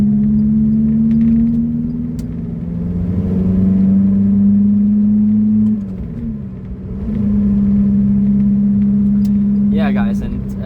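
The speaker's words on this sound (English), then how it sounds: "The car is so extremely loud." A Lotus Elise engine drones loudly from inside the car through tunnels, holding a deep steady tone that dips as the car shifts and then rises again, with a brief higher squeal near the end.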